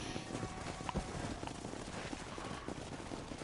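Horse hooves galloping in the Red Dead Redemption video game: rapid, steady clip-clop beats under a dense, noisy wash of ambient game sound, moderately loud and continuous throughout.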